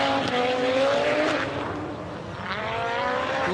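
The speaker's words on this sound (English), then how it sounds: "The iconic sound of the Audi S1 Quattro" An Audi S1 Quattro rally car at a Race of Champions event roars past with a sustained, loud high-revving engine note that rises and falls continuously.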